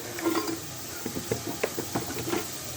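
Fish being added to a pan to fry produces a soft sizzle with a series of knocks and scrapes against the pan, close and quiet.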